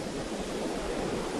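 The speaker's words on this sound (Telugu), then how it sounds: "అసలు ఆ అలలు" Sea waves break on Pakala beach in a steady, fairly soft wash of surf, continuous through the short moment with no distinct individual crashes.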